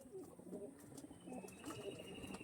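Racing pigeons of a long-flying breeding line coo softly and repeatedly in a loft, a low, faint murmur of several birds with no talk over it.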